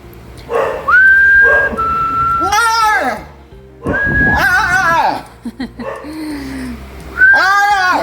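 A bird whistles long, steady tones between squawky, voice-like chatter, loud and close, in repeated bursts.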